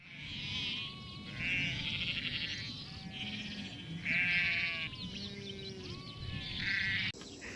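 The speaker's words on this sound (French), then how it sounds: "il y a les petits moutons qui sont sortis" Sheep at a campsite in Corsica bleat repeatedly in a series of wavering calls, some overlapping, fairly close and moderately loud, over a soft outdoor background.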